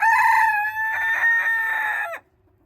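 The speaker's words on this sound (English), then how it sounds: "And here are my silkies inside their coop." Silkie chickens inside their coop, with a hen calling in a loud, sustained crow-like cry for about two seconds, close up, then cutting off abruptly into near silence; no talking.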